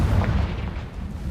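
A Confringo fire-blast spell detonates in Hogwarts Legacy, a dense, loud low rumble that holds throughout the short moment with no pause or voice over it.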